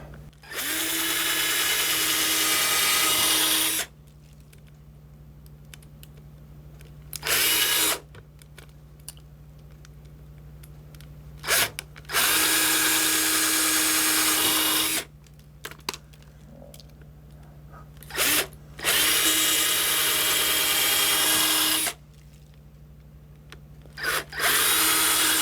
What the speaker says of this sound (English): I'll go ahead and drill those out.